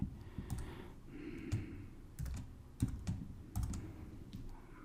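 Typing on a computer keyboard while programming, a sparse run of soft, close key clicks in a quiet room with no talking.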